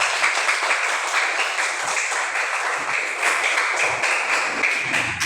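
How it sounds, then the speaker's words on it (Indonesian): A classroom full of students claps together in sustained applause, a dense patter of hands that holds at an even level for several seconds. "Tepuk tangan dulu."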